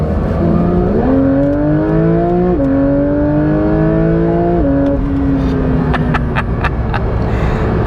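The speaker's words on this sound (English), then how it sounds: "Porsche make a wonderful 4-litre flat-six" A Porsche 911 GT3 with a 4-litre flat-six revs in comfort mode, its loud, close engine note climbing in stepped pitches through several rises before easing off, followed by a few sharp clicks near the end, with no talking.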